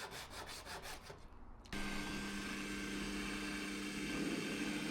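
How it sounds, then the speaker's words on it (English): A Japanese pull saw cuts through wood: a few close rasping strokes come first, then give way to a steady, even drone that carries on to the end. "There's a bit of getting used to with the Japanese saws because they're on the pull"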